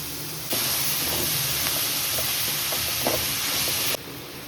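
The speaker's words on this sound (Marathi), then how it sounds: "कांदा जास्त भाजून घ्यायचा नाही, हलकासच भाजून घ्यायचं. त्याच्यामध्ये टमाटर टाकते." Tomatoes drop into lightly fried onions in a pan for a Marathi brinjal bhaji, setting off a sudden loud, broad hiss and sizzle that holds steady for about three and a half seconds before easing back, close up and without talking.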